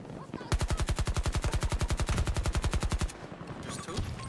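Automatic gunfire in Battlefield 2042: one long, rapid, evenly paced burst of loud close shots lasting about two and a half seconds, with quieter game noise before and after.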